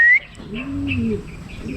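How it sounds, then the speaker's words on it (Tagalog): Pigeons circling overhead, with a soft low cooing call rising and falling at mid distance and a few faint high chirps, against a steady outdoor background. "Dalawang itim na nga mga kalapatids."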